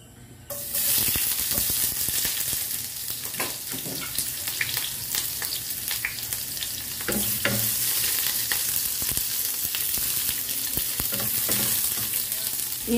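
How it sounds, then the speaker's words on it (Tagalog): Onion and garlic sauté in hot cooking oil with a loud, continuous sizzle that starts abruptly and holds steady, broken by occasional stirring clicks and scrapes close by. "Igisa natin ang onion at garlic."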